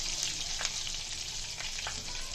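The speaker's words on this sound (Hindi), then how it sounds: "अब हम बाकी मिर्चें ऐड कर देंगे और इनको भी इसी तरह फ्राई करेंगे" Green chillies frying in oil for achari mirch, a steady close hiss of sizzling with a few faint spatters and stirring touches scattered through it, with no voices.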